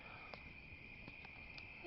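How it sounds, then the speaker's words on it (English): Crickets chirp in a steady high trill on a quiet night by a campfire, faint and continuous, with a few soft brief calls that may be frogs breaking through. "Hear all the frogs, crickets"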